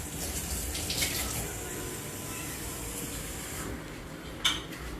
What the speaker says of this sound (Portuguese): Ó, só umedeci ela um pouquinho na torneira